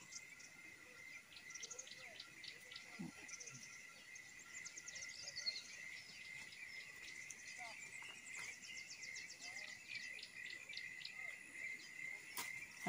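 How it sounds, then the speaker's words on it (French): Birds call and chirp in the Mayombe forest in Congo, repeated bright trills and tweets over a steady insect buzz, faint and distant throughout with a few soft voices in the background. "on entend beaucoup de chants d'oiseaux"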